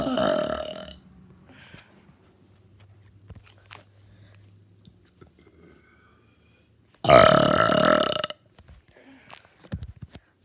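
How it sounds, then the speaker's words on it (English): Two loud burps, one short at the start and a longer drawn-out one later, separated by near silence with faint rustling. "It's time to do burping part 7"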